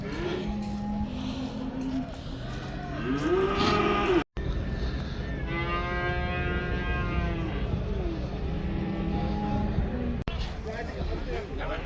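Cattle at a livestock market let out several long, loud moos, one after another, over a murmur of people talking nearby.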